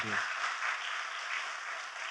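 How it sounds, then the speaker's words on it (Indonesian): Church congregation clapping and applauding together during a worship service, a dense, steady wash of many hands that stays loud and even throughout, with a brief voice at the very start. "Kita kasih tepuk tangannya pula yang paling meriah buat Tuhan."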